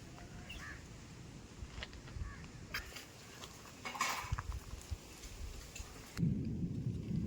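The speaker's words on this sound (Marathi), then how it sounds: "बघा तिकडे वीज कडकली त्या साईडला" Steady unseasonal rain in Konkan patters throughout, with rumbling thunder swelling midway and a heavier downpour surging near the end, drumming on a parked vehicle.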